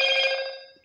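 A single telephone ring, a bright electronic trill that starts loud and fades away within a second, heard alone with no talking.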